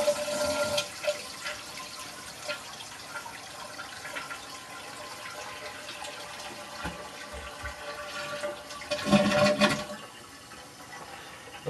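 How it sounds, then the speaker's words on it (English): Toilet flushing with a siphon water saver fitted to the tank, a long rushing drain and refill of water heard close up, rising to a louder gush near the end. "So now we're going to flush the toilet and start the siphon."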